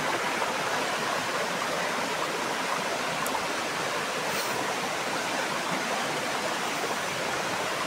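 A river stream of clear fresh water flows in a steady, unbroken rush that fills the whole clip, close and fairly loud, with no voices over it.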